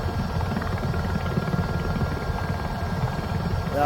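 A Robinson helicopter in Microsoft Flight Simulator 2024, a steady low rotor chop and engine drone heard alone at an even, moderate level for a few seconds.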